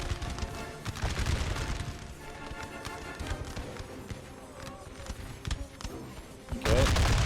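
Musket volleys from a firing line in an American Civil War battle game, a dense, continuous crackle of massed gunfire with scattered distant shots, swelling into a louder burst near the end; a voice talks over it.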